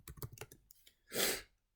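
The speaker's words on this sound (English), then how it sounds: "And let's type in King Kai." A computer keyboard is typed on in a quick run of close, soft keystrokes, followed by a brief breathy whoosh.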